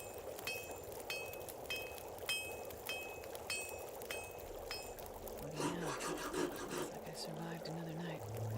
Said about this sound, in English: we're gonna have to hacksaw the thing down then